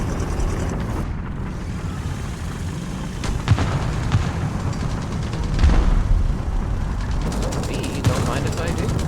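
Gunfire aimed at an enemy gun in War Thunder: scattered, moderately loud shots and booms over a constant rumbling engine and battle bed, with a person talking throughout.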